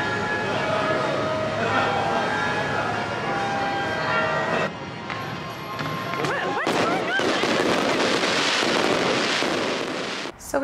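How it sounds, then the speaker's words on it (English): Fireworks burst over Atrani on the Amalfi Coast, a sustained crackling barrage with sharp pops and whistles that grows denser and louder partway through, heard at a distance in an open seaside setting with faint voices in the background. "So we happened to catch this random firework display."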